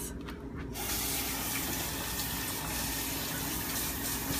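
Tap water runs steadily into a kitchen sink to rinse a cutting board, a loud close continuous gush starting just after a brief moment of clattering and lasting to the end.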